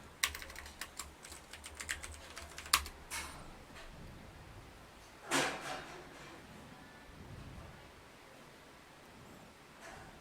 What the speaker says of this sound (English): And gonna type the administrator password.